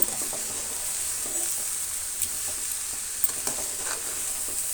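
Grated coconut palya is turned in a hot pan, giving a faint even hiss with a few light scrapes and taps of the spoon, close and steady with no talk.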